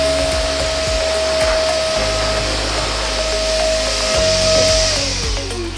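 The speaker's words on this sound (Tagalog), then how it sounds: "Yung vacuum blower to, eh" A loud, steady high-powered vacuum blower drying a dog roars continuously, with a sustained whine and rumbling low end throughout.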